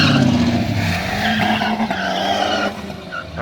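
Drag cars doing burnouts at a muscle-car street event on Woodward Avenue, including a supercharged 2014 Mustang: loud, continuous tire squeal and roaring engines close by, steady for about three seconds before easing slightly.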